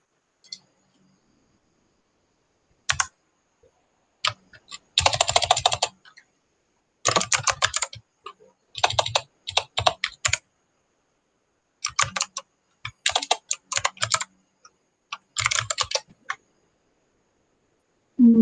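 A command is typed on a computer keyboard: bursts of quick, crisp key clicks separated by short pauses, close and clear with no talking.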